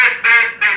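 A duck call blown to imitate a hen mallard's greeting call, giving three loud, close, nasal quacks in quick succession with short gaps.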